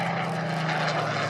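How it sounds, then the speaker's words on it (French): A Supermarine Spitfire Mk XIV propeller fighter flies past at the Air Legend 2023 air meeting, its engine a steady droning hum with a strong low tone, moderately distant and continuous, no voices over it. "Très bien, on voit l'avion qui passe."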